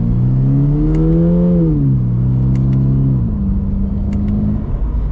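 A 2024 Toyota GR86 with its 2.4-litre engine pulls hard, the close loud engine note climbing, dipping through a gear change and settling into a steady drone, with no talk.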